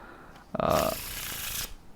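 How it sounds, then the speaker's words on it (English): A deck of playing cards gets a Faro shuffle: a brief crisp riffle of interleaving cards lasting about a second, close and fairly loud, with a soft handling sound before it. "Doing a normal Faro Shuffle"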